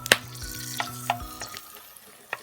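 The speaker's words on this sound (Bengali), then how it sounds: "প্রথমে হাঁড়িটা গরম করে এর মধ্যে সরিষার তেলগুলো দিয়ে আমি মরিচগুলো বোটা সহ ভেজে নিব।" Whole green chillies with their stems fry in mustard oil in a hot pot, a soft sizzle with a few crackling pops and light stirring scrapes. The sound is close and fairly quiet.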